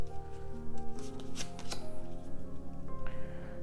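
A tarot card slid and drawn from a deck, making a few short papery swipes and flicks, close and clear over a steady hum of soft background music.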